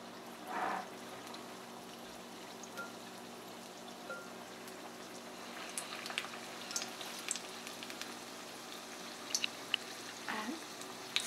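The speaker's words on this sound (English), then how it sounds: "So now we are ready to fry them. I'll put round dumplings one by one." Round dumplings for Punjabi kadhi pakoda fry in hot oil with a soft, continuous bubbling sizzle and scattered light pops, faint and close.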